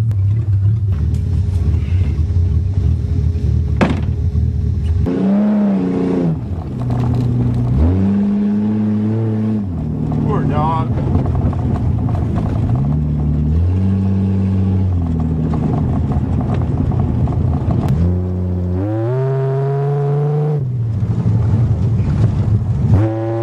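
A 1982 Toyota Cressida driving in the rain, its engine a steady loud rumble that rises and falls in pitch as it revs and shifts through gears, with constant wet road and wind noise throughout.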